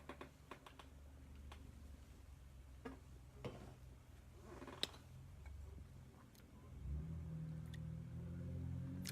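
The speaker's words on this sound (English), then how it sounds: "I hear a lot of traffic out there on the nice scooped out roads." Road traffic passes outside, a low engine rumble that swells toward the end as a vehicle accelerates, under irregular keyboard-like clicks and ticks indoors.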